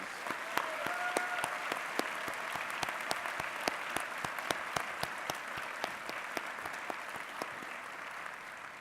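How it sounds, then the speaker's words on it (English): A crowd at a university president's inaugural speech claps in a sustained round of applause, an even, continuous patter of many hands heard from a distance and fairly soft. "Please join me in a round of applause for all of them, please"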